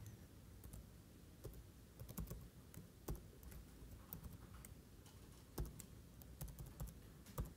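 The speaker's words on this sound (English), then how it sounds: "So we need to type in this ASCII code in our vendor class in the DHCP server." Close keystrokes on a computer keyboard tap out an ASCII code for a DHCP server vendor class, quiet and irregular over a faint steady room hiss.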